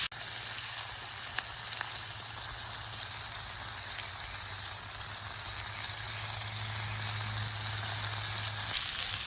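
Wild oyster mushrooms frying in a pan outdoors, with a steady loud sizzle that crackles continuously and a couple of faint taps.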